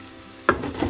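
Chicken pieces drop into sizzling masala in a pan for mappas curry, a sudden loud splash of sizzle after a quiet half-second, followed by crackling frying up close.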